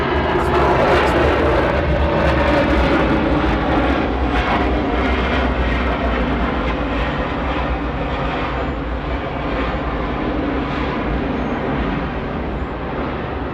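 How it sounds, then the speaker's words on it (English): Boeing 717 jet airliner at Atlanta airport, a loud, steady engine roar close by that holds throughout and fades slightly toward the end, with no talk over it. "we got a 717 in the background"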